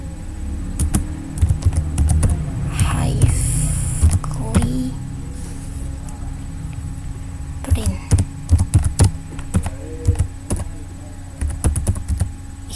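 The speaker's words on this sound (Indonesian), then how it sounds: "Nah kemudian habis itu kita ketik" Irregular clicks and bursts of computer keyboard typing come in short clusters while someone talks over them, close and moderately loud.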